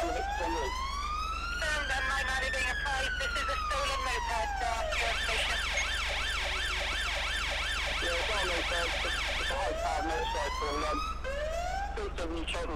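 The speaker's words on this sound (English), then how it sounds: "I have also put in the right siren that Dorset Police are actually using at the moment" A Dorset Police car in a GTA 5 mod wails its Premier Hazard Shockwave siren, sweeping up and down through slow wail and rapid yelp patterns, loud and continuous with a steady engine drone beneath.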